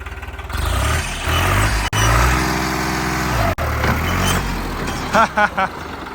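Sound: tractor engine pulling in fourth gear

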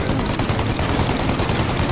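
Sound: gunfire in the video game Mafia: Definitive Edition

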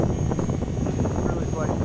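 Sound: RC helicopter rotor spinning up at throttle hold

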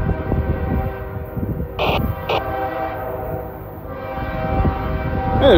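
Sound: train passing with horn

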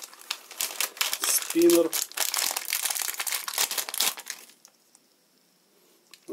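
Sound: crinkling plastic bag while unpacking fidget spinner

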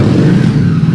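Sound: motorcycle engine passing

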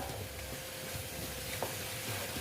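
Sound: frying spices with turmeric in a pan

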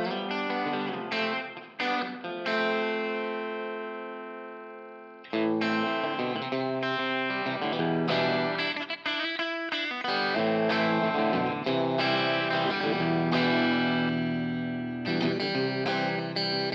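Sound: electric guitar through hall reverb, Two Notes Wall of Sound

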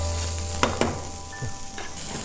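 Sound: frying onions in a pan

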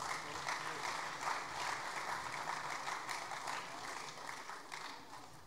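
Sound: applause for school golfers at sports awards

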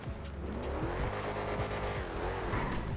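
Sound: SUV racing in video game GTA 5

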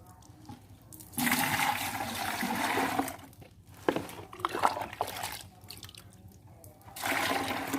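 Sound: water scooped and poured with a cup

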